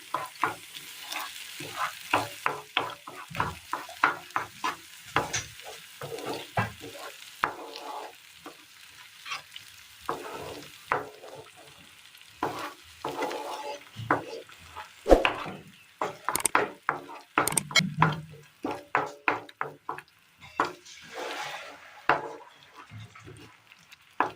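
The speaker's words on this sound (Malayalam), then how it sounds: "നന്നായി മിക്സ് ചെയ്യാം" An onion mixture is stirred in a pan, giving a dense run of quick scraping and slapping strokes over a soft sizzle. The strokes pause briefly now and then and start again, close and clear, with no voices.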